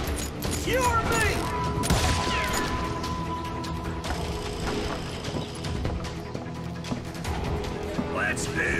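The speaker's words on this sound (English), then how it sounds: "They're shooting in the street!" Gunfire in a Wild West town street in Call of Juarez: Gunslinger, with dense, continuous, loud crackling shots and clatter, overlaid by game music and voices talking throughout.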